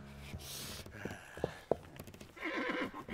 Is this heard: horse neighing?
yes